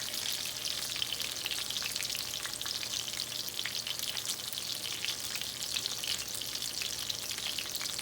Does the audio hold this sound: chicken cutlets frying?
yes